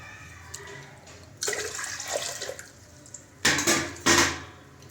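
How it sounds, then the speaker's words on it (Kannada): Water pours in short splashing bursts into a pressure cooker holding soaked rice, dal and vegetables for bisibelebath, with two louder gushes near the end and quieter trickling between. "3/4 ಲೀಟ್ರ್ ನೀರು ಹಾಕ್ಕೊಂಡು ಕುಕ್ಕರ್ಗೆ ಎಲ್ಲ ಬೇಯಿಸೋಕೆ ಇಟ್ಕೊಳ್ಳೋಣ"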